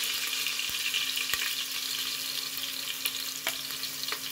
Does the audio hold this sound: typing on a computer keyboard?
no